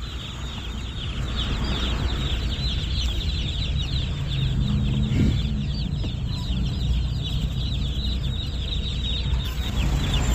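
Dense, constant cheeping of many chicks packed in cartons at a poultry farm, a steady high chirping chorus that fills the whole stretch at even loudness with no talk.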